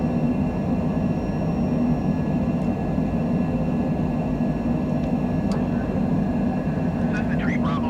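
A Cessna jet climbs out after takeoff from a hot Scottsdale, its engine a steady broad roar heard from inside, with faint clicks and brief beeps and people talking under it.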